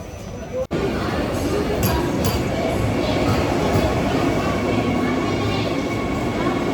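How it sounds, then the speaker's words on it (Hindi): A train pulls into a station on the way to Joda, a steady loud rumble of wheels and carriages with faint metallic clinks, continuous for several seconds after a brief dropout near the start. "तो मेरी ट्रेन आ चुकी है"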